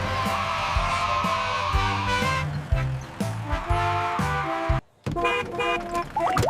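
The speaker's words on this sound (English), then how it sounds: "The horn on the chocolate bus goes beep," A cartoonish car horn beeping several times within a bouncy children's song about a chocolate bus, with sung voices and a bright synthesized backing track.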